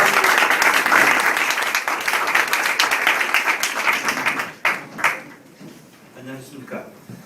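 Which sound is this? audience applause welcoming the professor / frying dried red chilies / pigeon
audience applause welcoming the professor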